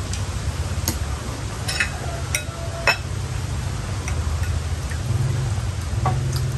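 Rain falls steadily as a constant hiss, with scattered sharp drips and ticks landing on nearby surfaces throughout.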